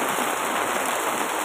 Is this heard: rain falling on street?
yes